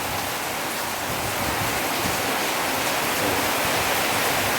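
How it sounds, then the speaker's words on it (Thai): Steady, dense downpour of heavy rain during a windstorm, a continuous loud hiss with no pauses and no voices. "ฝนรุนแรงมากเลย"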